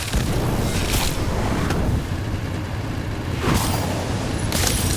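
An Incendio fire spell cast in the Harry Potter Magic Awakened game bursts out as a dense, booming roar, with several sharp whooshing flares punctuating the steady rumble.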